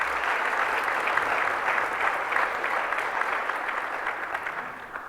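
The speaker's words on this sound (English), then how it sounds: "So a big round of applause for all of those who are here." A large audience at the Toronto Global Forum 2019 applauds in a steady, dense wash of clapping that holds level for several seconds before easing slightly at the end.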